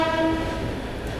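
The Dharmavaram–Nanded weekly express arrives at Mudkhed Junction station with a sustained horn tone at the start, fading into a loud rolling rumble of the carriages.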